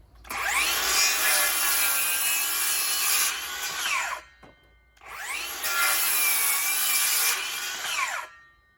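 A Dewalt DCS573 cordless circular saw on speed setting five, powered by a 5 Ah 20 V battery, spins up twice to a loud, high whine. Each run lasts about four seconds and winds down, with a brief near-silent pause between them.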